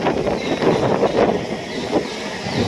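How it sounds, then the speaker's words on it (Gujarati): Steady, strong wind roars and buffets close to the microphone in a temple courtyard during light rain, a constant rushing noise with gusty swells and no voices. "તમે જોઈ શકો છો પ્રાંગણમાં અત્યારે ખૂબ પવન અને ધીરો ધીરો વરસાદ ચાલુ છે"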